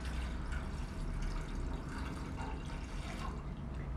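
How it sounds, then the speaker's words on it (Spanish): A cup of water is poured into a small pot while preparing a homemade hair dye, a continuous splashing, trickling wash of liquid lasting several seconds at steady loudness, close up with no voices. "Vamos a necesitar una taza de agua, la cual vamos a añadir en una ollita."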